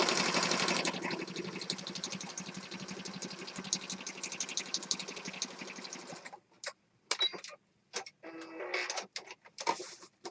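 A sewing machine stitches a junk journal, running in a continuous rapid whirring hum for about six seconds, then stopping and starting in short bursts separated by silence, close and clear.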